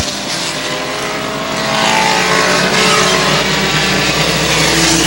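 Race cars roar around a short track during an event, engine noise loud and continuous, swelling louder partway through as a pack passes close, with crowd and track ambience underneath.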